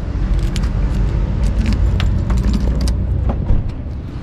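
A car driving over rough ground with keys jangling and rattling inside the cabin, steady engine and road rumble punctuated by clinks and knocks throughout.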